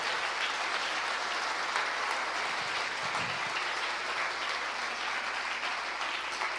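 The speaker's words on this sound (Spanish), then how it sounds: "Dale un aplauso si le has creído." A church congregation claps steadily during a service, a dense, even wash of applause that holds at the same level from start to finish with no voices standing out.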